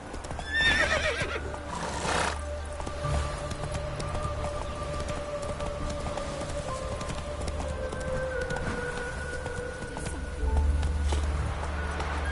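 A horse whinnies loudly near the start, and galloping hooves keep up a steady rhythm through the rest, with a low rumbling background and no talking.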